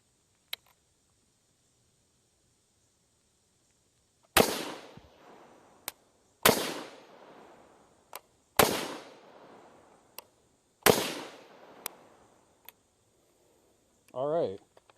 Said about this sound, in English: it functioned fine for those 4 shots